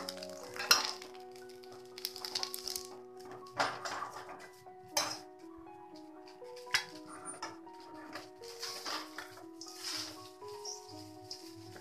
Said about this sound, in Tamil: இந்த மாதிரி இருக்கிறத நம்ம அப்படியே கிளறி விட்டுட்டே இருக்கும்போது தனியாக அப்படியே நம்ம எடுத்துடலாம்